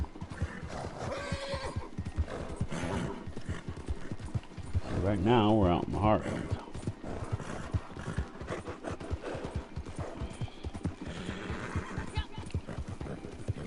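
An Arabian horse in the Red Dead video game neighs loudly in a whinny midway, with clip-clop hoofbeats running throughout under someone talking.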